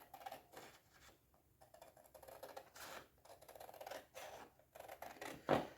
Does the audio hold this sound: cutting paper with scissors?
yes